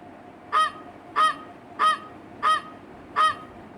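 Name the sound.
goose honking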